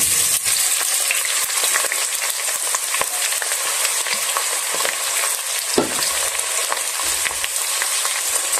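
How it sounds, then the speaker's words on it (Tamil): Sliced onions and about ten green chillies fry in hot oil with a steady, loud hiss and crackle. Occasional stirring scrapes sound through the sizzle, and nobody speaks. "அது ரெண்டையும் இப்போ போடுறேன்"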